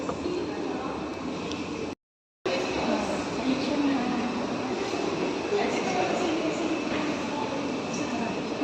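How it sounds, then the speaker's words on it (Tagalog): An airport transfer train to the departure area rumbles steadily from inside the carriage with a continuous rolling roar, interrupted by a brief cut. "Train papuntang departure area."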